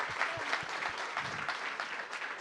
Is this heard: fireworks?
no